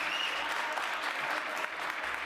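An audience breaks into sustained clapping in the New York City Council chamber at City Hall, a dense, loud wash of many hands that carries evenly for a couple of seconds before a slight drop.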